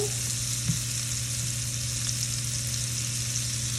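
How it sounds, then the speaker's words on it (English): Steady, close sizzling of za'atar-crusted cheese frying in a hot pan, with a constant crackling hiss and no talking. "fry them on every side until they're nice and golden brown"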